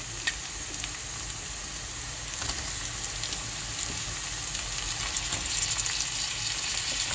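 Tomato added to a pan of fried shrimp and onion sizzles steadily and loudly at close range, with a few faint clinks of stirring and no voice over it.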